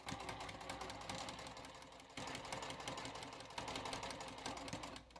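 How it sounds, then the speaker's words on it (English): A sewing machine runs close up in fast, rhythmic bursts of stitching, first forward and then in reverse for a back stitch, with two short breaks in the steady mechanical chatter and no voices. "I will go forward a few stitches and then do a back stitch"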